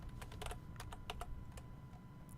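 Keys clatter on a computer keyboard in quick, uneven bursts of sharp taps, close and fairly quiet over a low background hum, with no voices.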